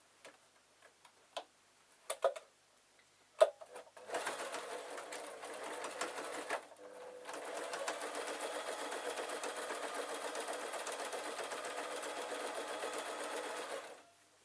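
A sewing machine stitching a fabric panel for a cushion cover starts after a few clicks and handling taps, then runs in a steady, close, rapid ticking whir, pausing briefly before a long continuous run that stops near the end.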